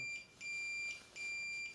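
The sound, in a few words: simulated alarm beep on KNX touchscreen (Iddero Verso)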